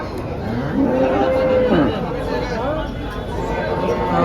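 Several cows moo close by amid a busy crowd murmur of many people talking outdoors at a cattle market in Dhule.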